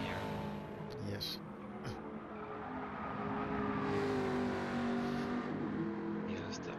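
Race cars run close together on a circuit, their engines giving a steady, droning whine that swells as they pass. A commentator talks over the engine noise throughout.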